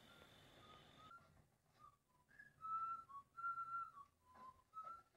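Melodic whistling from a scene in the 1978 horror film Halloween, a tune of short sustained notes with pitch glides, moderately close and loud, following a brief steady tone, with no talking over it.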